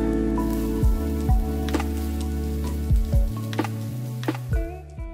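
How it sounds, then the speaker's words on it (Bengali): Flour frying in a pan for chicken pot pie filling gives a soft, steady sizzle, broken by scattered spoon taps and scrapes, under a low steady background hum. "এখন দিয়ে দিব 1 টেবিল চামচ ময়দা দিয়ে 1 মিনিট ভেজে নিচ্ছি।"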